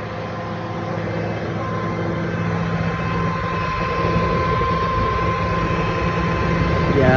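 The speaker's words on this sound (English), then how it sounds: "there's a heck of a whine coming from the bottom of it" A steady, rising whine from the transmission of a 2009 Honda Civic Si with a freshly rebuilt K20z3 engine being broken in. It sits over a low mechanical drone and is heard up close, alone and gradually growing louder.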